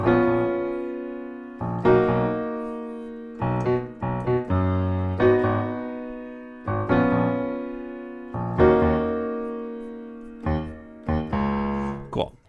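Piano plays the verse of a song in a lower octave, with sustained chords and bass notes broken by short melodic runs, heard close and alone without talking.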